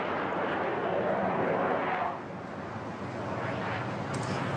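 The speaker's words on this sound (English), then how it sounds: "Tejas is going to do the same at round about 110 knots, showing the slow speed handling qualities of the type." A HAL Tejas fighter jet makes a slow pass at about 110 knots at the Bahrain air show, a broad roaring jet rumble that is loudest early on and then eases to a steady, more distant wash.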